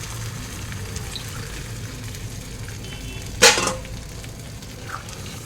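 Water is poured into a simmering paneer curry in a pan, making one short loud splashing gush that rises suddenly over a low, steady kitchen background and then dies away, with no talking.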